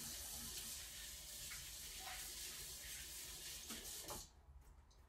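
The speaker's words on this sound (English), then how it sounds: "And then you're gonna apply some warm water, scrub those bubbles together." Warm tap water runs steadily during handwashing in a kitchen, a continuous close gush and splash that drops off sharply near the end as the flow is cut.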